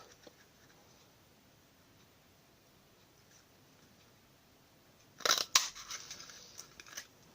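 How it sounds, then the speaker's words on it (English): A matching paper punch cuts shapes out of card stock, giving a brief cluster of sharp, crunchy clicks and snaps close by after a long stretch of near silence. "I'll punch those two out."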